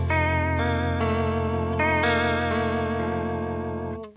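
Electric guitar through a PastFx Small Clone–style chorus pedal on its subtle 70s setting, a few sustained chords with a gentle shimmering wobble, loud and close, fading out at the end with no speech.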